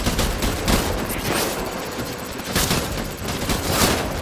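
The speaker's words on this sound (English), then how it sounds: "How the hell are they shooting?" Gunfire in Death Stranding: dense, rapid bursts of automatic shooting rattle close and loud throughout, overlapping into a near-continuous barrage with no talk.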